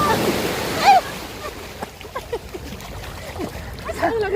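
Sea waves washing onto Repulse Bay beach, a constant surf wash with a splash near the start, while a person speaks faintly over it.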